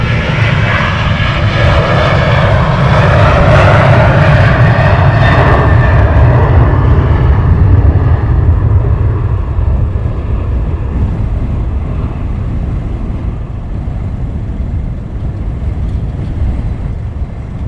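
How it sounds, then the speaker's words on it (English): Jet aircraft engines at Luton Airport roar loudly and continuously, a broad rumbling whine that slowly eases as a plane passes, heard close and alone without voices. "Pan it around to these aircraft here"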